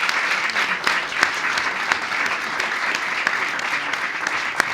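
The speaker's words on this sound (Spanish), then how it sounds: "les pido, por favor, un fuerte aplauso a nuestros panelistas y nuestros ponentes" Applause from the audience for the panelists and speakers at a Latin American security round-table event, steady dense clapping filling the room with no talking over it.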